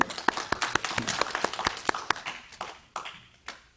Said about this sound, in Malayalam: വെരി ഗുഡ്, ഒന്ന് കൈയടിച്ചേ.